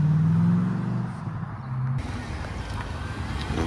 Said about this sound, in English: Can't argue with the sound of a V8.